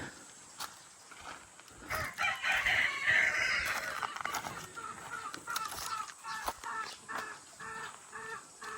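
Chickens cluck and a rooster crows repeatedly, fairly close, with rustling and scattered clicks underneath.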